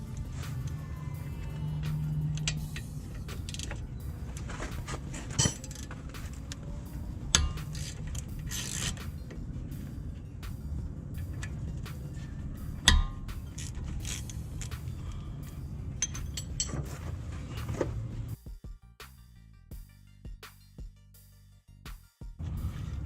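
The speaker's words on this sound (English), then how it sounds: "use a 14mm socket and ratchet to take out the top bolts on the caliper and the bottom bolts on the caliper" Brake caliper bolts on a Chevy Malibu are loosened with a 14mm socket and ratchet, giving scattered close metallic clicks and clanks over a low background hum, ending in a brief quieter stretch.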